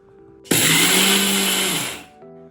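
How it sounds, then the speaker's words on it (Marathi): A kitchen mixer grinder whirs into life to grind roasted flaxseed and garlic with salt and red chilli, one loud, close, high-pitched burst that holds steady for about a second and a half before winding down. "आता हे मिक्सरमध्ये बारीक करून घेऊया"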